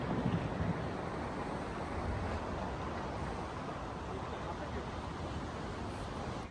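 Ocean surf at La Jolla, San Diego, California rolls in as a continuous broad roar of waves, mixed with wind buffeting the microphone and steady throughout.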